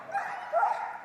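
A Border Collie at an agility competition arena gives a couple of high, yelping barks and whines, close and fairly loud against a faint hall background.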